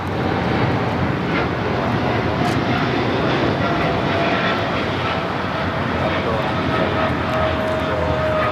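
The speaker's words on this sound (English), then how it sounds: "This is Korean Air Cargo 8208 taking off to Seoul on the 777 freighter" A Korean Air Cargo Boeing 777 freighter takes off from LAX, its engines producing a loud, constant roar that stays near and unbroken throughout, with talk faintly present.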